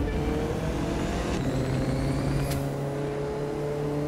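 An Audi RS3 Sportback engine in the racing video game The Crew 2, a steady mid-pitched drone holding constant revs at moderate volume with no talk.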